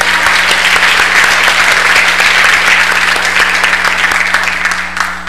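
A church congregation applauds loudly and steadily, with many hands clapping close together and continuing for several seconds before tapering slightly.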